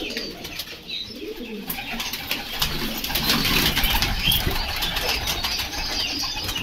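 Pigeons kept for flying at a loft setup, with soft cooing and bursts of flapping wings close by over steady outdoor background noise, no talk.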